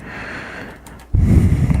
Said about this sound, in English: it's kind of hot, so you start panting a little bit because it's friggin' hot in here.